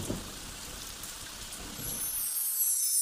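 Steady rain hisses in an animated children's nursery rhyme, a continuous broadband wash with no voices that swells slightly louder toward the end.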